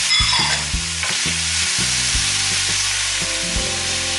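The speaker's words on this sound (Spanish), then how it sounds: "Lo vamos a dorar por unos minutos" Carrot, bell pepper, onion and two garlic cloves sizzle in oil alongside browned beef for chow mein, a loud continuous frying hiss with repeated knocks of stirring and a low steady hum underneath.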